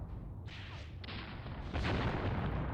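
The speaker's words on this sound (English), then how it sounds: "This anti-tank gun is doing the Lord's work as well." An anti-tank gun fires in the wartime strategy game Mius Front, a deep boom among rumbling battle noise and distant gunfire, with a heavier blast near the end.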